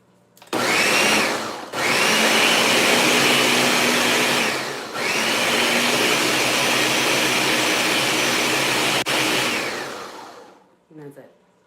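A kitchen blender pulsing tomatoes into a sauce, loud steady whirring in three long bursts separated by brief pauses, close up and with no talking.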